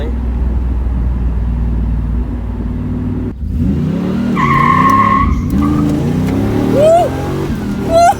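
F-Body Camaro on a street drive with cold tires, engine droning and revving while the tires squeal in short sharp bursts, loud and close, with occupants' voices and whoops mixed in.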